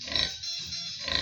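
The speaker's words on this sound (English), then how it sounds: "some of his pigs" Pigs on a farm in Ghana grunting and squealing nearby, with two short high-pitched squeals at the start and end and low grunting between them, with no talk.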